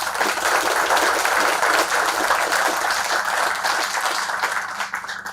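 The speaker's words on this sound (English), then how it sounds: "Let's give them a well round of applause for taking all those efforts on." Outdoor crowd applauding at an Army Corps of Engineers ribbon cutting for an Everglades reservoir project, steady clapping from a modest gathering that thins and fades toward the end.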